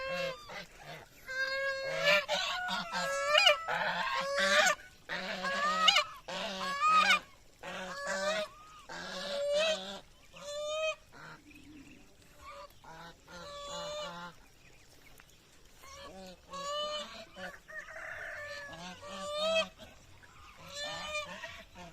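A flock of free-range ducks on a provincial farm, let out onto their range, gives dense, continuous honking and quacking, with many overlapping calls close by and a few voices talking underneath.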